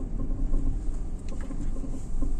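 A Tata Altroz pulling away in first gear: a steady low engine hum with a faint rising tone, heard from inside the cabin, smooth and fairly quiet, with no talking.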